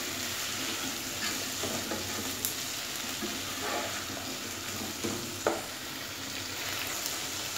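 Stirring and mixing canned cooked pineapple rings with candied fruit for a fruit farofa, a steady close scraping and sizzling texture with a few sharper clicks of the utensil against the pan.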